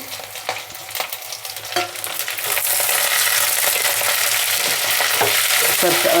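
Chopped cluster beans tumble into fried onions in hot oil, a few clatters and stirring knocks followed by a loud, steady sizzle that swells and holds, close and without speech.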